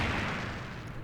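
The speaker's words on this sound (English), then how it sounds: "it takes a massive explosion to stop Leon from doing what he's doing" A heavy explosion in the Resident Evil 3 video game, a loud booming blast with a rumbling, crackling tail that fades gradually over a second.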